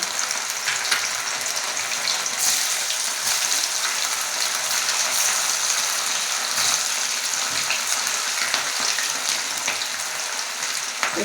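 Chicken pakoda pieces frying in hot oil over a low flame, a steady dense sizzle and crackle that holds unbroken throughout with no speech.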